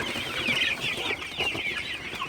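Golden super hybrid chickens cluck and murmur at night in their coop, a dense overlapping chorus of close, continuous clucks with no voices.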